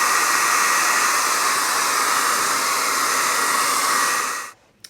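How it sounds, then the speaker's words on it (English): A blow dryer roars loudly and steadily for several seconds drying a chalkboard, then switches off abruptly, leaving near silence and a small click. "I'm going to take my blow dryer and I'm going to go ahead and blow dry it."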